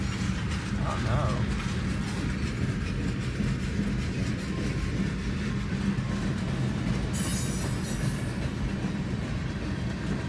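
A long freight train of 167 cars, pulled by several locomotives, rolls past with a steady rumble and mechanical clatter, and a high metallic wheel squeal rises near the end.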